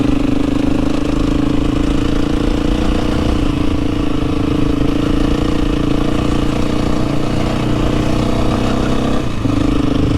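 A KTM 350 motorcycle engine running steadily and loud at close range while riding over snow and ice without studs, a constant droning hum with no talk.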